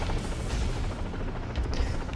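Gunfire and a helicopter in the Far Cry 3 Blood Dragon video game form a dense, steady wall of rumbling noise with scattered shots, loud and continuous throughout.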